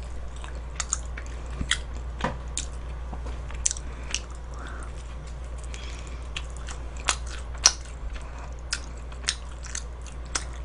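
Crisp bites and chewing of a garlic shrimp thin-crust pizza, close and sharp, with irregular crunchy snaps spread across the clip over a low steady hum.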